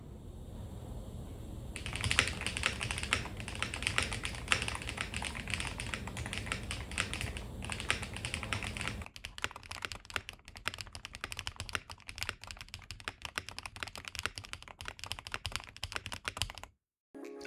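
Rapid, continuous keystrokes rattle on a custom-built mechanical keyboard, close and steady, with a denser clacky stretch giving way to a sparser, deeper run of presses before stopping.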